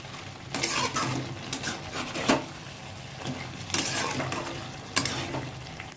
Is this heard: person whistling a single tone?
no